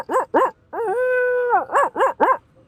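A voice imitates a dog: two sharp barks, a long drawn-out howl, then three more quick barks, close and loud with nothing else behind it.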